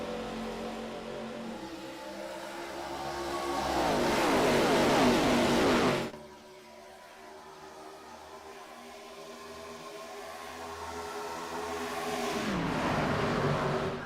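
Race cars in a Scrambler Series race at Charlotte accelerate at a green flag restart, engines swelling to a loud roaring pass, cutting off abruptly, then building again as more cars rev up and approach.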